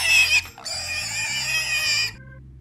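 A pig sound effect in a read-aloud children's story, a loud high squeal with a brief break before a longer squealing cry, set over a faint background tune.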